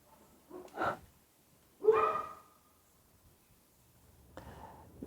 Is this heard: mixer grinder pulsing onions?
no